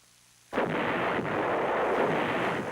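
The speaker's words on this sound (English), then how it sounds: "North Vietnamese artillery, hidden inside the zone, hammered Marine bases, causing heavy casualties." North Vietnamese artillery shells Marine bases near the DMZ during the Vietnam War. After a brief quiet, one sudden heavy blast bursts in and rolls into a long, dense, rumbling barrage with no talk.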